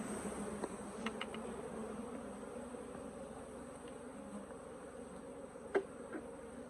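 Feral honey bees buzz in a continuous close drone during an open-air hive removal in Southern Arizona, with a few faint knocks and clicks from handling.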